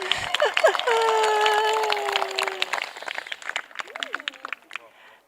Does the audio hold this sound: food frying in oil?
no